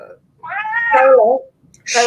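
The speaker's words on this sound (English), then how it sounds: "Got a mouthy cat here." A single drawn-out cat meow, close and fairly loud, rising then falling in pitch, followed by a brief start of another vocal sound.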